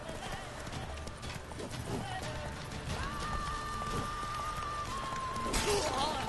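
Horse hooves gallop in a steady, rhythmic clip-clop in the Witcher 3: Wild Hunt video game, close and continuous over a busy background of game sounds.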